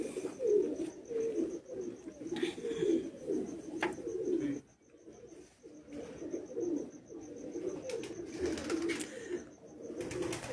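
Champion-bred racing pigeon cooing steadily and close by in soft, low rolling bursts, with a brief pause midway and other faint birds and rooftop ambience behind.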